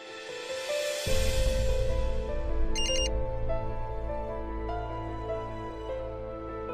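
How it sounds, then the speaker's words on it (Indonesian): A short, high electronic phone text-message alert chirps briefly over ongoing background music at night in a home, a single quick burst of beeping tones. "malam-malam gini siapa yang SMS?"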